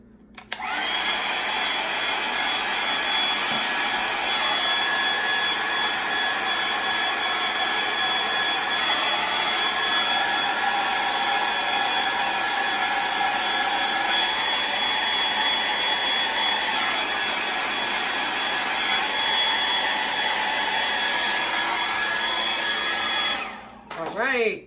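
A hair dryer drying chalk paste on a spooky skeleton chalk couture craft, a loud steady close whir running nearly unbroken for about twenty-four seconds before cutting off.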